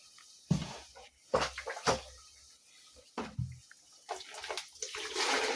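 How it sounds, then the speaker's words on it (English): Kale leaves rinsed in a sufuria of water in a village kitchen, with irregular splashes and sloshing bursts separated by short pauses, close and fairly loud, ending in a longer swish. "So that's why I have to rinse the sufuria nicely."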